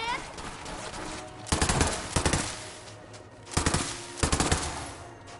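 Rapid SMG gunfire in the video game Borderlands 3, several loud, dense bursts of automatic shots separated by short pauses over game background sound.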